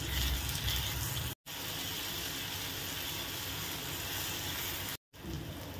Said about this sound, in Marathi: आता आपण यात 2 बारीक चिरलेले टोमॅटो ॲड करूयात। टोमॅटो मेल्ट होईपर्यंत परतून घेऊयात।